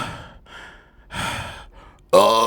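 The anime character Emu panting, a run of breathy exhales and gasps that get louder, ending in a sharp voiced gasp.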